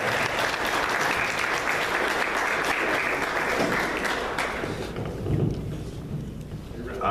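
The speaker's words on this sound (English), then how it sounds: "Let's give her a round of applause." Steady, dense applause from a crowd at an AIDS candlelight vigil in Columbus, Georgia, loud and continuous, thinning slightly toward the end.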